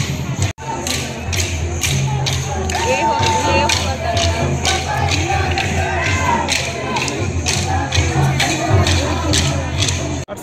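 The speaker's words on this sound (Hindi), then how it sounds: "यहाँ तो भीड़ है" A dense crowd mills about at a fairground during a community gathering, a continuous loud hubbub of many overlapping voices and shouts, with repeated sharp taps or claps cutting through.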